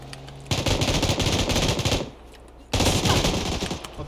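Rapid automatic gunfire in the PUBG video game comes in two loud, dense bursts separated by a brief lull, close and with no speech over it.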